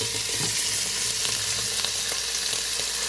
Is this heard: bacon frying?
yes